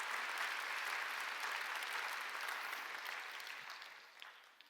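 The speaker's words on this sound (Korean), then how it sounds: "깨달은 사람만 박수." Congregation at a Sunday worship service clapping in response to the pastor. The applause is dense and fairly soft, fading gradually toward the end.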